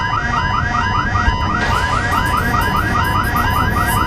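A spaceship's main alarm in an Elite Dangerous fan film blares in a rapid, repeating warbling tone, steady and loud above a dense rumbling background, with no voices.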